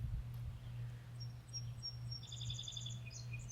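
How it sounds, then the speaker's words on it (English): A robin sings a run of clear, high whistled notes, fairly faint and distant, over a steady low hum. "I just heard the robins, or the robin."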